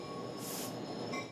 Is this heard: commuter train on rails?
yes